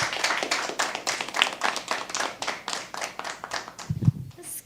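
An audience at a shayari poetry recital claps for poet Ibrahim Rehbar, rhythmic, fairly close hand claps that rise and fall in waves with a few voices heard among them.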